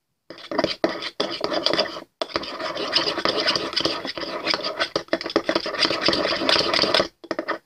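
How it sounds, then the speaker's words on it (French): A spoon stirs homemade borax-free slime made with UHU Stic glue, producing continuous close scraping and squelchy rubbing in uneven bursts, with a few brief pauses between strokes. "Ah, désolé pour les bruits de cuillère."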